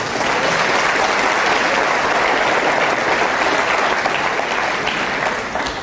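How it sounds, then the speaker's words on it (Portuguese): A church congregation breaks into loud, sustained applause, a thick wash of many clapping hands holding steady throughout before easing slightly at the end. "Você pode aplaudir esse Deus maravilhoso?"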